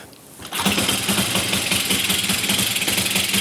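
After a moment of quiet, a 500cc twin-cylinder Triumph Speed Twin motorbike engine starts and runs unevenly, its rough, lumpy firing pulses loud and close.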